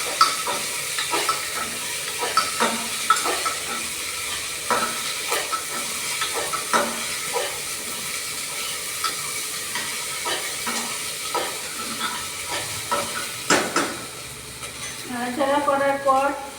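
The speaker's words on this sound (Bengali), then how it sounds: "এরপর আমি আবার বরবটি দিয়ে নাড়াচাড়া করে নেব।" Yardlong beans frying in a pan and stirred with a utensil, a soft continuous sizzle broken by repeated scraping strokes at an uneven rhythm, close and moderately loud, with brief speech near the end.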